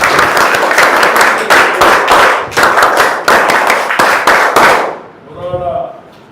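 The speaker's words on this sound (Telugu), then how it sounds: "గట్టి చప్పట్లు కొట్టండి" A school parent-teacher meeting audience applauds loudly, with dense rhythmic clapping in close bursts for about five seconds before it quickly fades away.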